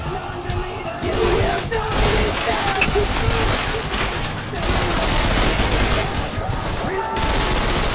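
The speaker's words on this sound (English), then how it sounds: "Like dual wield shotguns." Dual-wielded shotguns firing in the video game Trepang2, a sustained barrage of heavy blasts that stays loud and dense from start to finish with no talk over it.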